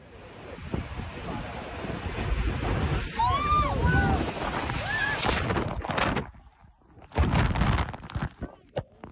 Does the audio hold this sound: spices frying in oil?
no